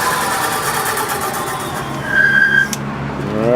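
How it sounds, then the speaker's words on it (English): Brand new brake pads squeal on the rotor of a Kraken 12000W electric fat bike, a sharp high-pitched squeak lasting about half a second over the steady hum of the running motor. "Brand new brake pads are going to squeak a little bit to wear them in."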